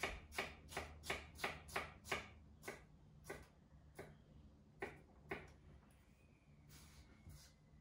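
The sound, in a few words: knife cutting a stack of food on a board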